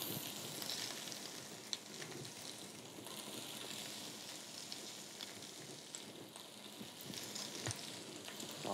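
Onions and carrots sizzle in a pan as the base for a brown stock, a soft, continuous hiss with light crackles and occasional stirring clicks, quiet and unbroken by speech.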